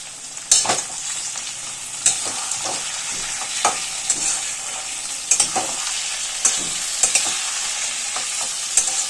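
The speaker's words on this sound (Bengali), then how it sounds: "এরপর আমরা এর মধ্যে নুন হলুদ দিয়ে আগে থেকে মাখিয়ে রাখা চিংড়ি মাছগুলো দিয়ে দেবো" Prawns coated in salt and turmeric frying in a pan, a loud continuous sizzle broken by repeated scraping clicks of a spatula stirring them, close and without talk.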